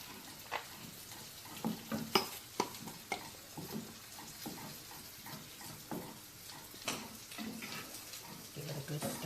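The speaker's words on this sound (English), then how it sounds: "Give it a good stir. And while that's going, let that simmer." Simmering tomato sauce in a pot for a Southern Sunday dinner is stirred, giving a steady bubbling sizzle with repeated scraping and clinking of the spoon, and a voice speaks at times.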